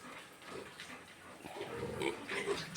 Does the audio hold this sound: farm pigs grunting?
yes